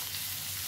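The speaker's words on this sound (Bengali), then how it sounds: "ঢাকাটা আবার খুলে আবারও এটাকে আরেকবার নেড়ে দিতে হবে।" Ivy gourd (kundru) frying in a pan as an Indian-style vegetable fry, giving a steady, soft sizzle throughout a brief moment with no clear stirring strokes and no talk.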